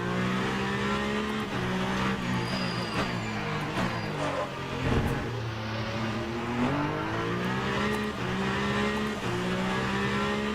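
A hypercar engine races at Le Mans in the Le Mans Ultimate sim, roaring steadily with shifting revs through gear changes and a brief surge, loud and continuous without talk.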